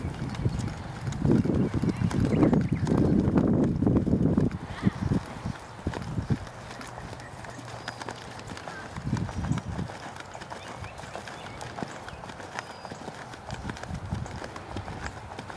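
A horse's hooves thud on soft arena footing during a western dressage lesson, a loud rhythmic canter at first, then fading to softer, more distant footfalls, with an instructor's voice now and then.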